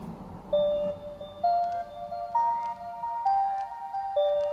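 Dry Arturia Pigments synth melody in Logic Pro X with the plugins removed, a short run of plucked notes stepping up and down, each entering crisply and fading, alone.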